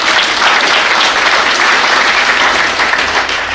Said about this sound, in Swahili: Tuji appreciate kwa makofi.